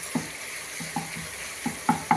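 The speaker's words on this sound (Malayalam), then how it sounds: "ബിരിയാണിയിലേക്കുള്ള ചെമ്മീൻ ഇതാ ഫ്രൈ ആയിക്കൊണ്ടിരിക്കുന്നത്" Prawns frying in a pan for biriyani, a steady sizzle broken by several sharp stirring scrapes and clinks against the pan at irregular intervals.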